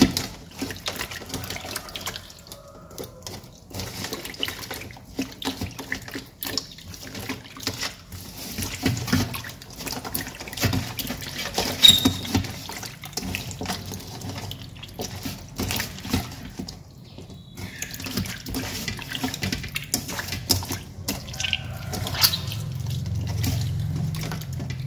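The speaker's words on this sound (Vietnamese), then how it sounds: "Mình sẽ rửa từng khúc một để cho nó sạch ạ." Pieces of fish rinsed one by one in a sink or basin while preparing them for braising, with continuous running and splashing water, soft sloshes and occasional drips, close and moderately loud, with no talking.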